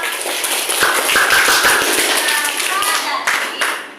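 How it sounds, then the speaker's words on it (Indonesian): A classroom of students claps hands during a lesson on the human respiratory system, a loud burst of clapping with scattered sharper slaps, voices mixed in underneath. "Tepuk tangan buat kita."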